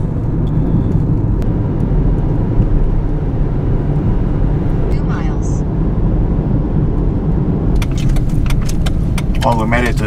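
Constant, loud engine and road rumble from inside a car driving to a hiking trailhead on a smoky morning, with brief jingling and rattles near the end.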